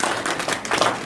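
Audience clapping at a Toastmasters speech, a brief burst of dense applause from many hands, moderately loud and close.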